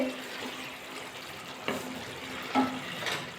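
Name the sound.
vegetable curry broth boiling in pot after lid removed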